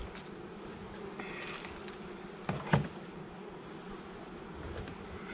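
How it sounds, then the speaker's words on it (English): Honey bees buzz around a hive as field bees return, a steady, faint, continuous insect hum filling the air outdoors, with a brief louder pass as one flies close. "Hoping that maybe we can pick up some of these field bees coming back in here."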